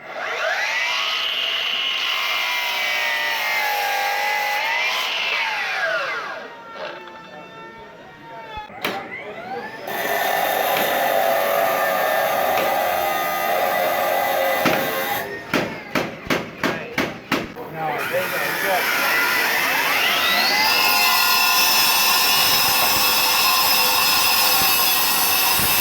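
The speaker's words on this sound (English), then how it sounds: "Nine-inch cutoff saw available this October" A Milwaukee nine-inch cutoff saw whines loudly in long runs, spinning down and back up twice, with a burst of sharp rhythmic knocks in the middle before the motor screams again.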